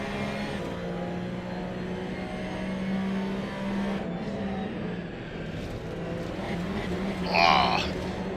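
Onboard engine drone of a Porsche Cup race car lapping Hockenheimring in a sim racing game, a steady mid-level hum that briefly rises near the end, with commentary talk over it.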